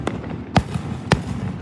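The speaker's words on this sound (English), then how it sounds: "There's more fireworks going off behind me." Independence Day fireworks go off outdoors in three separate sharp bangs, roughly half a second apart, over a steady background crackle and rumble.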